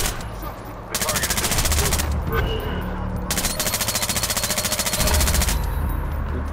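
Full-auto gunfire rattles in Splinter Cell Blacklist, long loud bursts of rapid rhythmic shots separated by brief pauses, with faint game ambience between bursts.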